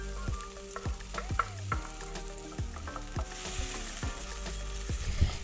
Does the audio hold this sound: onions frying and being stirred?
yes